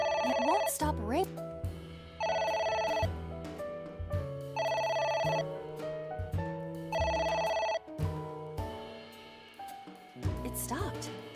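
A telephone in the video game AI: The Somnium Files rings in repeated electronic bursts, four long rings separated by short gaps, with game music and a voice speaking between them.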